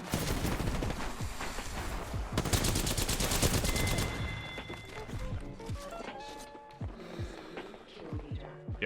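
Apex Legends video game gunfire, a player getting shot in the back: rapid, loud bursts of automatic fire for the first few seconds, then scattered shots and game effects that fade to quieter clatter, with no talking.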